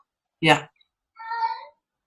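A house cat gives two meows, a short sharp one followed by a longer drawn-out one, close and clear against silence.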